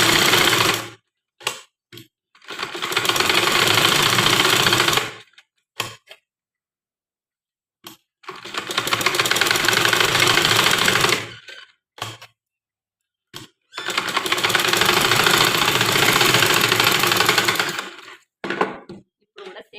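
Sewing machine stitching a small girl's frock in three long runs of rapid, even mechanical whirring, each lasting a few seconds and separated by quiet pauses with brief clicks and handling noises.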